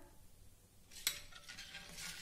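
A spoon stirs salted batter in a pot, with a faint single clink followed by soft scraping and swishing in an otherwise quiet kitchen.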